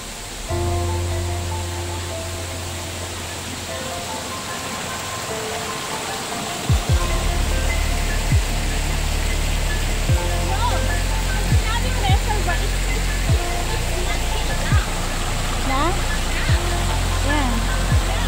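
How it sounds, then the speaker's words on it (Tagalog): A waterfall and stream at Pok Fu Lam Reservoir rush in a loud, steady roar that fills the scene, with people talking over the water throughout. "ito po yung naririnig naming falls. Yung lagaslas ng tubig."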